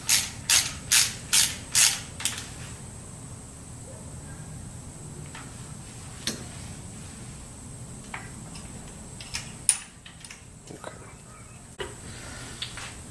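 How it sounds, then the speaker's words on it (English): 8 mm ratchet tightening a bolt on a Suzuki DR650 motorcycle during an oil change, five quick rhythmic clicking bursts up close, followed by quieter faint ticks and handling noises. "using the 8 millimeter, we're just tightening this to 7 foot-pounds"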